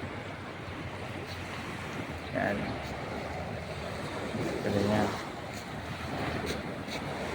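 Sea surf at Pacific Point beach resort in Leyte rolls in a steady wash with wind buffeting the microphone, while a person speaks briefly over it.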